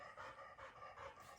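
A dog pants steadily indoors in a home, its quick breaths repeating close by and fairly loud throughout, with a brief sharper sound at the very end.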